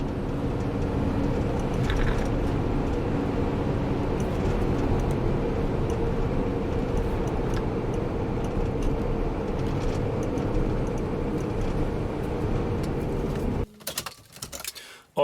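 A Mercedes Sprinter van, just repaired for an oil cooler leak with a new oil pan, drives along with a steady low engine and road rumble heard from inside, until the sound cuts off abruptly near the end.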